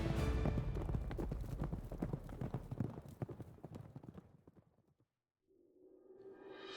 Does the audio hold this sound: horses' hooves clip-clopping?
yes